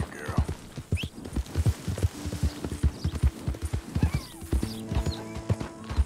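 Horse hooves clip-clopping at a steady trot in Red Dead Redemption II, rhythmic and close, with a brief whinny and a faint musical hum underneath.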